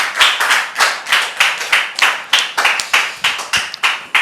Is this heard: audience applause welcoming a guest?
yes